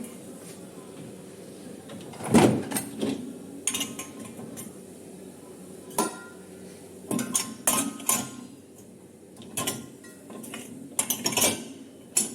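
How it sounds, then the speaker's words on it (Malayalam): Dishes and cutlery set upside down into a dishwasher rack, a series of clattering clinks and knocks at irregular intervals with quiet handling noise between, close by and without speech. "ഇതുപോലെ കമഴ്ത്തി വയ്ക്കാം ഈ പാത്രങ്ങളൊക്കെ ഒരുപാട് കഴുകിയിട്ടൊന്നുമില്ല അങ്ങനെ തന്നെ എടുത്തു വയ്ക്കാം"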